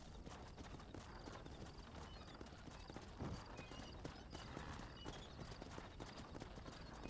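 A horse approaches in the Red Dead Redemption video game, its hooves clip-clopping steadily with a brief whinny amid a dense, continuous game soundscape, and no one talks.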